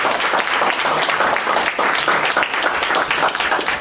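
Steady applause from a Toastmasters club audience following a tenth speech, dense clapping that holds loud and even for the whole stretch with no voices rising above it.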